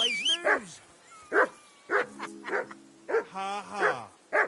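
A dog barks and yips in a medieval setting, with a series of sharp, close barks and whimpers spaced irregularly. Tonal whistling and animated voice-like sounds are mixed in between the barks.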